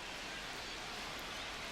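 Rain falls steadily at Truist Park, a baseball stadium, as a dense, even hiss of drops on surfaces. It holds at a constant, moderate level with no voices.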